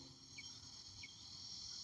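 A grasshopper chirps outdoors, two short faint high chirps over a steady background insect hum, no voices.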